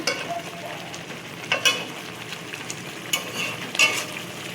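Bengali prawn malai curry with coconut milk sizzles softly in a pan as it is stirred, with several spoon scrapes and taps cutting through a low steady bubbling fry.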